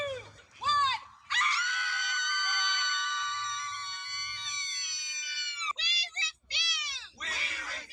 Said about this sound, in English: Here is my scream at the sky montage from yesterday.